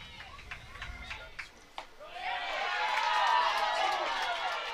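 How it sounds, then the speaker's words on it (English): Crowd at a college softball championship game between Rogers State and Southern Indiana, rising from scattered noise into a broad sustained cheer that swells and holds, fairly loud and distant, with a commentator talking at the start. "you hear the cheering, you hear the ooh, and you hear the ah for sure"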